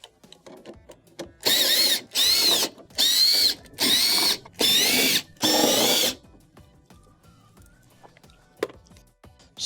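A power driver whines in six loud bursts, each about half a second long with short gaps between them, as it backs out 1/4-inch screws around the perimeter of a Whirlpool refrigerator's rear machine cover.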